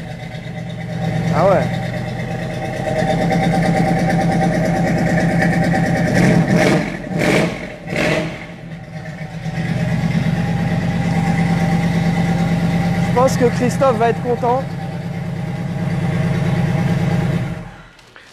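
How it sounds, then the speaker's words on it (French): A muscle car engine idles with a steady low rumble and briefly revs, close and loud, while French-speaking voices talk over it. "Vous voulez entendre le moteur?"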